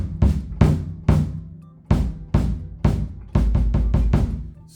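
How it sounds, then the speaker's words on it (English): A bass drum with its dampening foam removed, struck about a dozen times in an uneven pattern, each hit booming and ringing out with a long low decay, the last few in quick succession, close and alone. "that is the sound of my bass drum"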